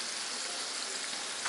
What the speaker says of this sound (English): So we're just gonna let those fry about probably about 2 to 3 minutes on each side until they are golden brown.